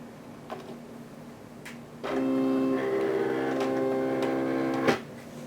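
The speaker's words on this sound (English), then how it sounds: "we're just going to feed our cutting mat into the Cameo Cutter like normal with the envelope attached" A Silhouette Cameo cutter feeds a cutting mat with an envelope attached: a steady mechanical motor whir with tonal hum starts abruptly and runs for about three seconds, close by, ending with a brief clack, no talk.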